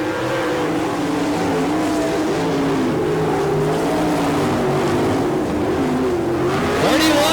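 Sprint cars race a heat on the Lawrenceburg, Indiana dirt track, their engines roaring continuously and loudly with pitch rising and falling through the laps, building to a sharp rev near the end.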